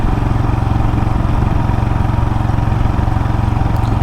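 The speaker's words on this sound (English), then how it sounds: "Tractor." A tractor engine rumbles past up close on a Lincolnshire road, a loud, steady, throbbing chug that fills the whole moment.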